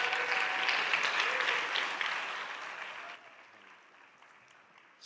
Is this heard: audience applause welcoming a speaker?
yes